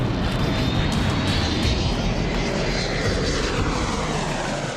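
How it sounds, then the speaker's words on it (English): Loud, steady roar of twin Rolls-Royce jet airliner engines close by during a go-around, a continuous powerful rumble with high whine that holds throughout. "with a blast of his two Rolls-Royce engines, he roars off"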